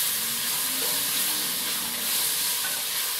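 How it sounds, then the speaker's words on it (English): Moroccan kurma stew ingredients sizzle steadily in a pan as they simmer and brown, a continuous close frying hiss with soft bubbling and no talking. "I'll allow it all to simmer and brown up and get together"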